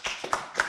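A few sparse claps after a startup pitch, three distinct hand claps spaced apart, quiet and close rather than a full audience ovation.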